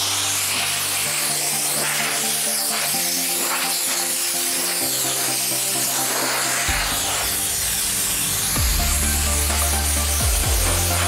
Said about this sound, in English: Now we get a dry rag with our air gun.